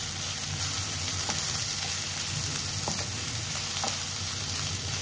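Onions frying in oil with cashews and ginger garlic paste for a chicken gravy, giving a steady, dense sizzle with a few faint stirring scrapes now and then, heard close and with no voices.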